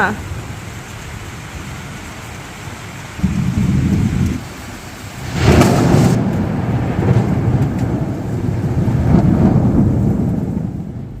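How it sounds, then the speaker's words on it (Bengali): Thunder rolls and booms through a heavy rainstorm, with deep rumbles swelling twice over a steady wash of rain before settling into a continuous low roar. "জোরে জোরে বিদ্যুৎ চমকাচ্ছে আর মেঘ ডাকছে"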